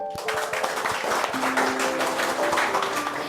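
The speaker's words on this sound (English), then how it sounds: "please give a huge round of applause for yourself" An audience at a school debate and English speaking competition prize ceremony applauds in a steady, moderately loud wash of clapping, with faint tonal music running beneath it.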